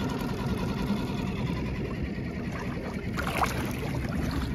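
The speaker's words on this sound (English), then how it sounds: "see she's pulling real good from the motor. No leakage, running good." A Suzuki 6hp outboard motor running steadily, its continuous buzzing drone close and even, with a brief rise in intensity partway through.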